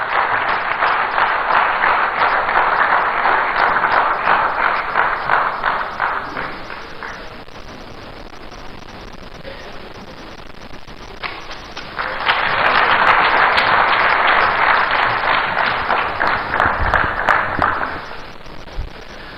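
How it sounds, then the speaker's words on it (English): Sustained audience applause at an outdoor political rally in Accra, a dense roar of clapping that dips midway and then swells again before tapering off. "Ladies and gentlemen, round of applause for Honorable Sam Okujeto Ablakwa."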